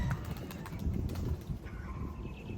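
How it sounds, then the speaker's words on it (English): Pigeons cooing in bushes, low repeated coos with soft wing flutters and rustling close by, fairly faint and continuous throughout. "I got pigeons stuck in bushes."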